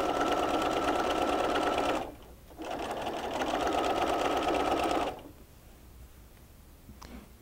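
Sewing machine stitching two pinned pieces of flannel for a baby burp cloth, running in two steady bursts of rapid whirring with a short pause between, then stopping; no talk.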